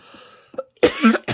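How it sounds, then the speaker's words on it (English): Quiet soft sounds, then a couple of loud, close coughs after taking a drink, in quick succession, the last one cut short. "I took a drink and then I had to cough."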